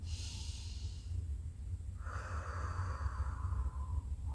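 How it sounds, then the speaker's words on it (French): A deep breath drawn in through the nose and then released through the mouth during a yoga pranayama exercise. The breathing is close, airy and alone, with no talking. "On va faire 3 grandes respirations en inspirant par le nez. On va expirer par la bouche."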